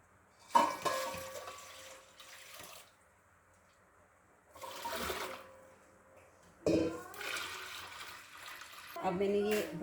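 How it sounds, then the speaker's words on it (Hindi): Water is poured in several separate bursts into a large cooking pot for chicken haleem, each splashing gush rising sharply and then tapering off, with quiet pauses in between. "इसमें अब मैं शामिल करूँगी पानी।"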